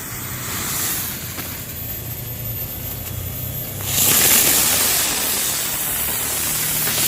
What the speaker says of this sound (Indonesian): Selanjutnya ini kita nyalakan mercon kupu-kupunya.